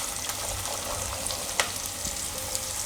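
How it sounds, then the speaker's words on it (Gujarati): Onions and green chickpeas fry in hot oil with a steady, close crackling sizzle and occasional sharper pops, with no talking. "તો ડુંગળીને આપણે થોડીક વાર આ રીતે તેલમાં ફેરવી લેવાની. હવે એમાં આપણે નાખી દેવું આ ચણા"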